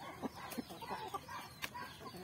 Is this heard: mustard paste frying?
no